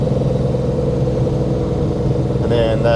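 A big-cammed LT1 V8 with a Comp XFi 292 cam, blipped hard at wide open throttle, gives a loud, steady engine roar with a brief surge in its final half-second.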